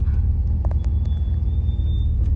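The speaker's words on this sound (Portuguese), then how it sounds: "É um caminhão." A truck on a road in Peru rumbles nearby with a heavy, steady low-frequency drone, loud and constant throughout, with a few faint clicks and a thin high whine above it.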